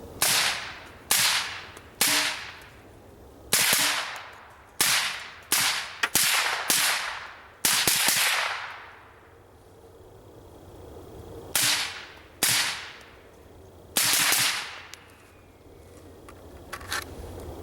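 An AR pistol fitted with a Sig suppressor fires about fourteen sharp, loud, close shots in uneven bursts, some rapid and some spaced by pauses, each with a short decaying tail, and a longer quiet gap partway through.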